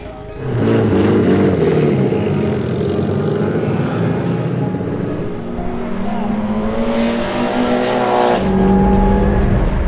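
A K24-powered Honda Civic race car lapping a track in a time attack session: a loud, sustained engine note rising and falling through gear changes, heard from onboard, with a brief dip before the revs climb again.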